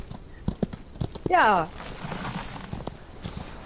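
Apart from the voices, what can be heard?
horse hooves in the video game Outlaws of the Old West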